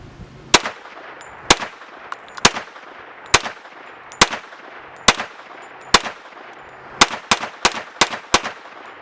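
Gunshots from a Ruger LC Carbine 10mm, fired outdoors: a dozen loud, sharp single reports, spaced roughly a second apart at first, then coming faster in a closing string, each with a short ringing tail.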